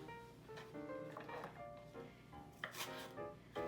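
A red onion sliced on a mandoline on its number 2 setting, making soft repeated slicing and scraping strokes close by with faint kitchen clatter and no talk.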